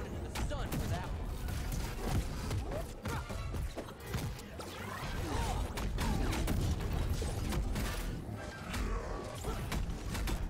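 Characters exploding in the fighting video game MultiVersus, with dense rapid bursts and crashes of game effects continuing throughout at a fairly even loudness.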